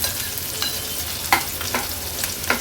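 A medium-size chopped onion fries in hot oil with garlic for an Agri-Koli prawn curry, giving a steady close sizzle broken by a few scraping stirs of the spatula.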